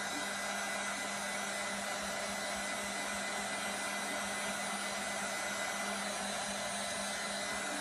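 A heat gun blows a steady, loud, even whoosh of hot air over chalk paint on a mason jar, holding constant without a break and without voices.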